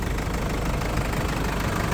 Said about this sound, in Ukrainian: Заведений двигун.